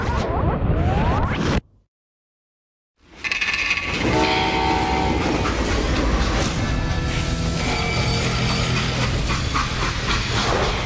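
A freight train in the Call of Juarez: Gunslinger video game rumbles loudly with a droning horn-like tone. The roar breaks off into a second of silence, then resumes as a heavy continuous rolling clatter.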